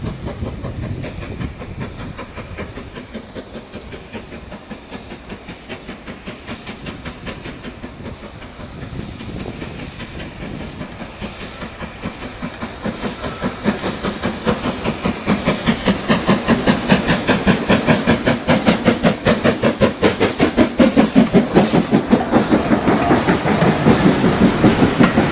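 A B12-class steam locomotive chuffs past at Yarmouth Beach with rhythmic exhaust beats and clattering wheels, growing louder and closer over time, with a hissing edge.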